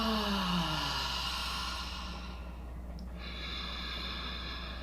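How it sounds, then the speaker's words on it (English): A long, soft exhaled breath with a low voiced ah tone that slides down and fades, followed by quiet steady breathing hiss, close to the mic during a meditation exercise. "in your exhale, you're going to make a sound of ah"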